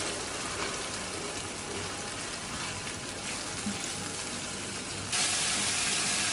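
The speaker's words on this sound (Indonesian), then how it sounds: "Kalau sudah panas, kita masukkan bumbu yang sudah tadi kita haluskan." Ground spice paste sizzles steadily in hot oil in a wok, a continuous dense crackle with no pauses.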